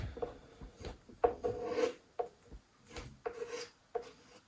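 Product is rubbed by hand into the rubber seal of a Foxbody quarter glass, producing close, irregular squeaky rubbing strokes in short bursts with pauses between.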